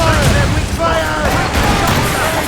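Ship cannons boom in a heavy volley during a naval battle in Assassin's Creed Rogue, loud and close, with crew voices shouting over the blasts.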